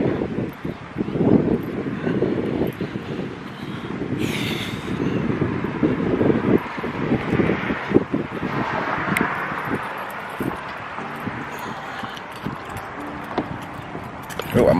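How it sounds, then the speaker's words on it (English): Strong wind blowing outdoors beside a truck, buffeting the microphone in a loud, uneven rush that rises and falls continuously with scattered rattling. "it's really windy"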